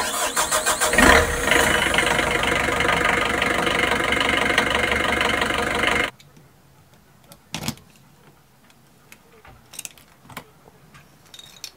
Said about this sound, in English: I'm going to show you a shot now of me starting up the engine on our last boat.